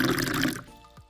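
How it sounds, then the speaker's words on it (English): Excess water strained off boiled Maggi noodles through a strainer, a loud close rush of draining water that cuts off after about half a second, leaving a few faint drips. "strain the excess water using a strainer"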